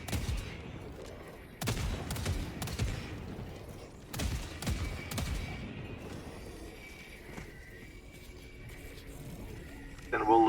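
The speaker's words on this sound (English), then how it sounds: "Here's another thing we do with turrets, is we'll set it down and we'll pepper an area before we enter" A sentry turret firing in Helldivers 2, sharp bursts of gunfire in several clustered volleys, fairly close, with quieter battle noise between them and a final loud burst at the end.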